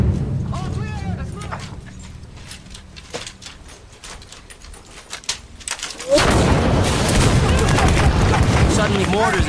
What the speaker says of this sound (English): Suddenly, mortars and gunfire are flying in from everywhere.